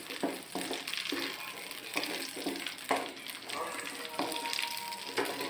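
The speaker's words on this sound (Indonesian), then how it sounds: "sebelumnya sudah dipanaskan minyak, jadi kita tunggu sampai cabai dan bawang putih ini layu" Chili and garlic fry in hot oil for a spicy chicken-feet dish, giving a steady broadband sizzle with repeated stirring scrapes and clatters across the whole stretch, fairly close and continuous.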